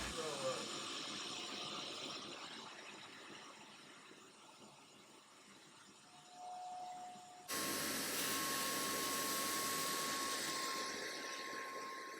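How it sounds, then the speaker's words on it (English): A UWANT B400 portable carpet cleaner with steam runs with a steady hissing, whooshing roar. The sound drops for a moment, then a high whine rises and the machine surges louder and holds there to the end. "The UWANT B400 portable carpet cleaner with steam has been a real lifesaver."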